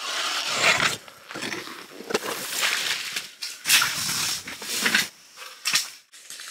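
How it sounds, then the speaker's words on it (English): A hand auger bores holes through thick lake ice for ice fishing in deep cold, making close, harsh grinding and scraping bursts that rise and fall in rough, uneven strokes. "Just drill some holes."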